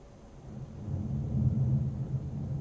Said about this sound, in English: Distant thunder.